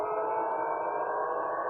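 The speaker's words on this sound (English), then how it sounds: "there is a total blackout and just air sirens are working" An air raid siren wails steadily in blacked-out Belgorod, one sustained droning tone held at even loudness throughout with no talking.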